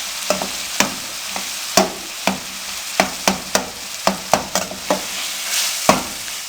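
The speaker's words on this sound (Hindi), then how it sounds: "अब बैंगनों को हम चम्मच की मदद से अच्छे तरीके से मैश कर लेंगे" Roasted eggplant mashed with a spoon in a pan over a medium flame, heard as a run of sharp, irregular taps and scrapes against the metal, close and fairly loud over a faint background hiss.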